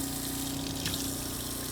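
Tap water runs steadily into a sink while a butchered Cornish Cross meat chicken carcass is rinsed off, a constant close gushing flow with no talk.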